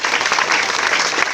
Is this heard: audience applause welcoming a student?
yes